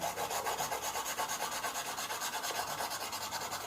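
A pastel pencil is rubbed back and forth on paper, a close, fast, even rasping stroke repeated steadily with no pauses and no talk.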